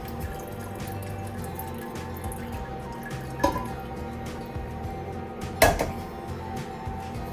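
Watery tomato sauce is moved from one pan into another on a stove at medium heat, with a continuous liquid splash and drip, plus a couple of sharper clinks of the pot against the pan.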